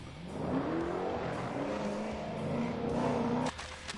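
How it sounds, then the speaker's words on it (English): Tuned American muscle cars, including a Ford Mustang RTR Spec 3, with engines droning and rising in pitch as they accelerate, a loud continuous roar with slight tire noise, cut off abruptly near the end. "3 American muscle cars, all of which have been tuned to a tire-shredding DEFCON 1."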